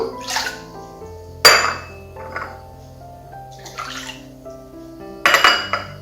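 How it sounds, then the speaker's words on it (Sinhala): Hot water being poured out of teacups before serving masala tea, with ceramic cups clinking and knocking several times between short splashes and drips, close and fairly loud. "ඉස්සෙල්ලම අපි මේකේ තියෙන උණු වතුර ටික අයින් කරගනිමු."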